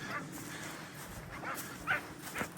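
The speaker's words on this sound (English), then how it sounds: "Griff barking away there like an excited child" Griff, a hunting dog, yips and barks excitedly after a flushed Hungarian partridge (hun) flies off, with a few faint, distant bursts spaced over steady outdoor background noise.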